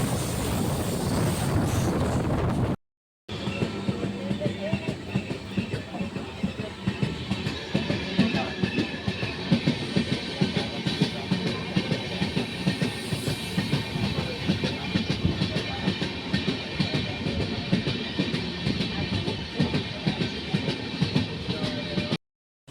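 Inside the Kagaznagar Superfast Express from Secunderabad, a steady rumble and rhythmic clickety-clack of wheels over rail joints run for about twenty seconds at speed, loud and continuous after a brief break near the start.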